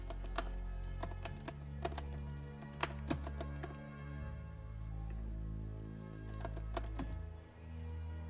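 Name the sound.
typing on a computer keyboard to fill in a form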